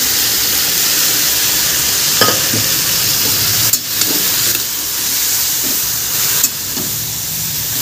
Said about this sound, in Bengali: সবজিগুলো এর মধ্যেই ঢেলে দেবো আর কি